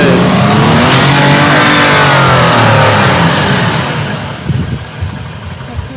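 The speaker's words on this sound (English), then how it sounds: "And you see, the car is going, moving, and that's it." A car engine revs hard as the vehicle drives out of deep sand in the Empty Quarter desert of the Rub' al Khali. The loud, sustained roar holds steady, then eases and fades toward the end.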